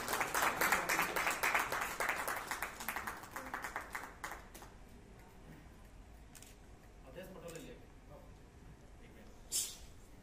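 Applause from an audience at an award ceremony, dense clapping that fades out over several seconds, with a voice speaking faintly under it.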